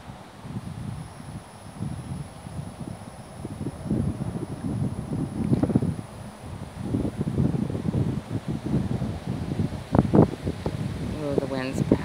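Gusty wind rumbles and buffets the microphone on a river bank, a continuous low roar that rises and falls, and a voice speaks briefly near the end.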